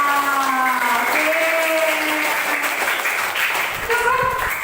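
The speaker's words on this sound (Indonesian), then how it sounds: "Tepuk tangan untuk kelas 5." A fifth-grade class claps in a classroom, dense steady applause throughout with voices talking over it.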